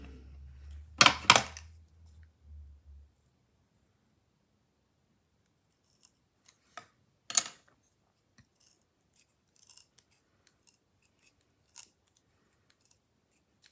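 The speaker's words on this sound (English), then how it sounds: "And Sandy, now you know why these scissors never work." Scissors snipping in a craft room: a sharp double cut near the start, then a long quiet stretch broken by faint, sparse clicks and one brief louder snip.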